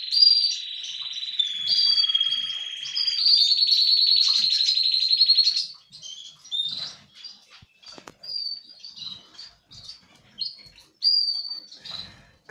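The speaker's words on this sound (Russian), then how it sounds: "Вот кеннер опять начал петь, вы слышите, да?" A male canary sings from a cage where a breeding pair has just begun incubating: a loud, high, sustained trilling song that first rolls continuously, then breaks into shorter separate chirps and phrases with soft rustling between.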